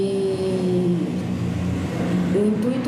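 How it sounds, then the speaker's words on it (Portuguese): Steady road traffic noise with car and motorbike engines droning and shifting pitch nearby, a continuous rumble filling the whole stretch. "então tem bastante barulho de carro, moto"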